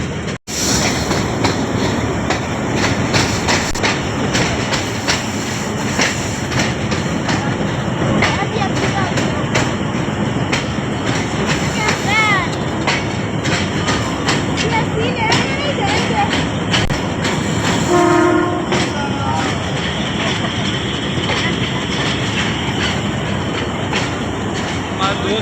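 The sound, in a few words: train passing at Taxila railway station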